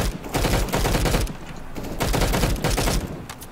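Rapid bursts of automatic gunfire in a first-person shooter video game, loud and close, coming in several dense volleys with short gaps between them and no talking over them.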